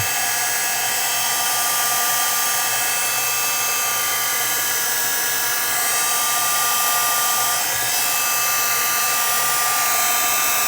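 A heat tool blows hot air to dry a watercoloured paper card before stamping, giving a loud, steady, high-pitched whirring drone that runs without a break and with no talking.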